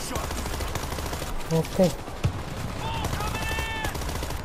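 Rapid gunfire rattles away at zombies in World War Z, with steady machine-gun bursts under a brief spoken word and short game cues.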